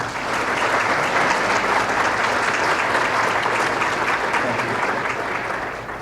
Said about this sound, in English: A big round of applause for Erin and her family.